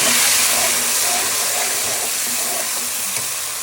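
Fried onions with ginger-garlic paste hiss and sizzle steadily as a splash of water hits the hot pan, producing a continuous broadband steam hiss with faint crackles, close and fairly loud, with no voices.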